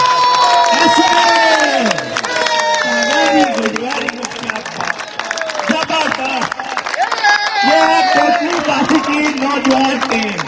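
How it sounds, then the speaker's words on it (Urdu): A large crowd at a political rally in Lahore claps and cheers loudly and continuously, with a voice shouting over the roar throughout. "خالد خورشید بھائی کے لیے ایسے تالیاں بجانی ہے"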